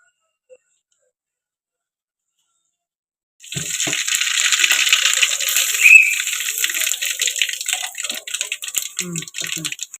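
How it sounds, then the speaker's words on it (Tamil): Cooking oil poured into a pan for chicken gravy makes a soft, close trickling splash that starts after a quiet stretch and carries on with light crackles and clinks to the end. "எண்ணெய் ஊற்றிக்கலாம்."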